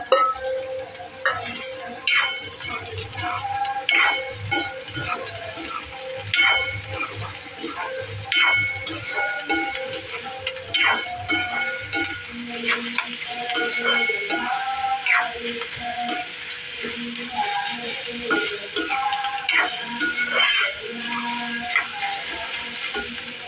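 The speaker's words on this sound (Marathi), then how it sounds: "कांदा चांगला लाल होईपर्यंत जरा परतूया चांगला" Chopped onion sautéing in a pan while cooking chicken chilli: a steady sizzle and fry broken by repeated sharp clinks and scrapes of a spoon stirring against the pan, close up, with no talk.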